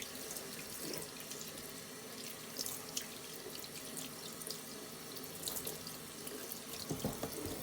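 Tap water runs steadily into a kitchen sink while fish scales from cleaned fresh herring are rinsed away, a continuous close splashing hiss with brief louder gushes and drips, no voices.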